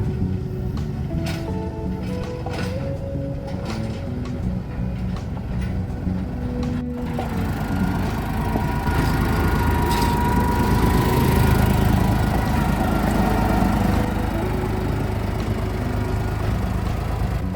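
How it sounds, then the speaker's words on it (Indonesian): A small 1067mm-gauge sugar mill locomotive, number 3, chugs steadily at the Semboro sugar factory depot in Jember, East Java, with a constant engine drone that swells slightly midway, alone without talk. "Lokomotif kecil nomor 3 akan berangkat berdinas ke ladang tebu."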